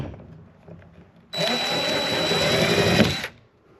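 A power drill whines steadily for about two seconds, loud and close, straining as it bores into fiberglass, then spins down.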